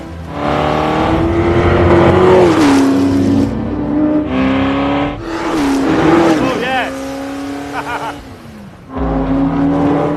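1966 Ford GT40 Le Mans race car roaring close by, its engine revving hard in loud rising surges through the gears with short drops between them, as a man exclaims over the noise.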